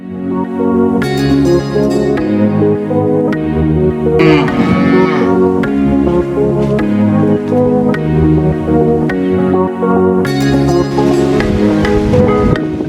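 Cattle low loudly and repeatedly in pens built from local trees and branches in front of Maasai houses in a remote Tanzanian village, with long overlapping moos close by.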